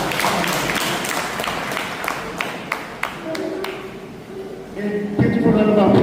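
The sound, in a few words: audience applause after a speech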